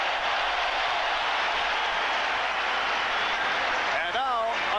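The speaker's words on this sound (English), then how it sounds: "Will Perdue hears it from the crowd." A dense basketball arena crowd roars continuously during a 1991 NBA Finals game between the Bulls and Lakers, loud and sustained beneath a commentator talking over it.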